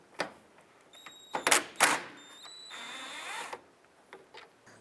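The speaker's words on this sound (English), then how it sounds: "Let's now go ahead and remove this upper bolt right here." A tool works an upper bolt loose on a 2005-2010 Jeep Grand Cherokee headlight, giving a few sharp close clicks and a short rattling ratchet burst, faint and sparse against a quiet background.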